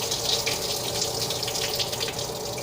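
Liquid pours steadily from a shaken, lidded container while making posole, a continuous close watery rush lasting throughout with no talking.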